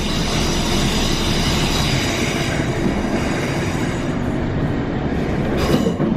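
A train pulling into Grangetown station in Cardiff gives a steady, loud rumble of wheels on rails, with a faint high squeal near the end.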